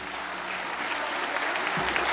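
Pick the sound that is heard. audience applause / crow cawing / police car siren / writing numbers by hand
audience applause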